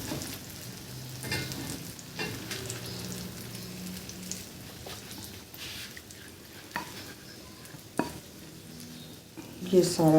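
Food fries in olive oil in a pan, giving a quiet, steady sizzle with intermittent stirring scrapes and clatters, and a brief spoken phrase near the end.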